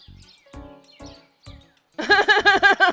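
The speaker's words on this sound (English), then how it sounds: "Over the bass boosted birds." Short bursts of talk give way to a loud, dense flurry of high chirps, like birds twittering rapidly and close, heavily boosted and distorted.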